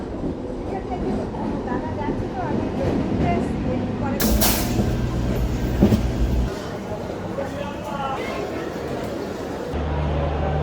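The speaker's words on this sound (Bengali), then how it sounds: "আজকে ওই যে ট্রেন ঢুকছে" A train pulls into a station platform on the Kolkata side, with a low rumbling rail roar and some clattering under it, plus a sharp hiss or screech midway, while people talk nearby.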